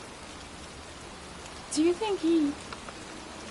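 Steady rainfall in a video game, a dense even hiss running throughout, with a brief stretch of speech near the middle laid over it.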